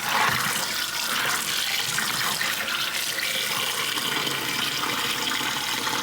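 Tap water gushes steadily into a sink over frozen fruit, a loud continuous splashing rush that fills the whole stretch with no voices.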